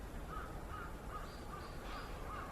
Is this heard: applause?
no